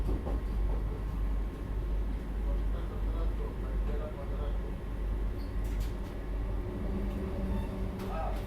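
Rumbling rail noise from a Vande Bharat Express passing on the line near Bhandara Road, a steady low roar with rattling through the whole stretch and a few sharp clanks near the end; no one speaks.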